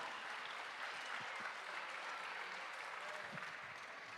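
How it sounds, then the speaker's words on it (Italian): An audience in Ollolai gives a live show a continuous round of applause, faint and distant-sounding, an even patter of many hands with no voices on top. "vieni qua a sentire l'applauso"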